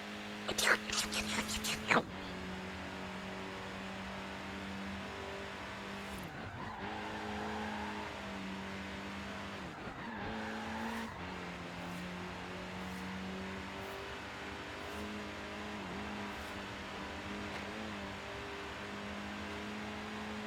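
A turbocharged car engine in the game Forza Horizon 3 drones steadily with rising and falling revs and a couple of whooshing turbo surges, preceded by a brief burst of sharp clicks, with faint talk underneath.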